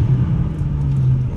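A Porsche engine with turbo hums and rumbles low and steady under acceleration, a close, continuous drone heard from inside the car at night.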